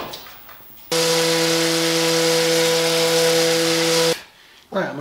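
A table saw with its blade set just below the wood's edge runs to cut the lid off a custom wooden wine box, giving a loud, steady whining hum for about three seconds, with faint talk before and after.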